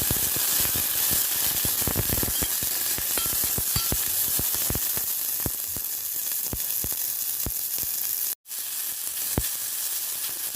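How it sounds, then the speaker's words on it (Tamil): A medium tomato sautés with onion and garlic in a pan, a constant close sizzle crossed by many quick spoon taps and scrapes in an uneven rhythm, with one brief dropout near the end. "ஒரு மீடியமான சைஸ் தக்காளி 1 போட்டு இதோட நல்லா வதக்கிடுவோம்."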